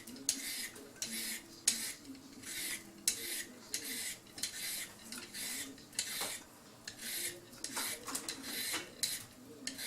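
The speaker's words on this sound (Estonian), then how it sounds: "Vahepeal ma nüüd puhastan ja tükeldan köögivilja." A carrot being peeled in a home kitchen, giving repeated rhythmic scraping strokes, close and fairly steady, with no talk over them.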